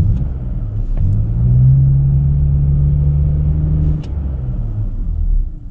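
A BMW 530i accelerating at full throttle with its EML and traction-control warnings lit: a loud, steady engine drone with a rising tone that holds for a few seconds, then drops back to a rumble as road noise continues.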